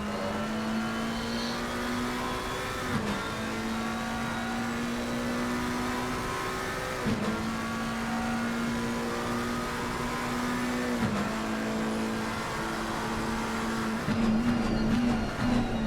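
McLaren race car lapping Monza in a sim racing game, its engine holding a steady loud drone through the gears with brief dips at each upshift or braking point, continuous and up close.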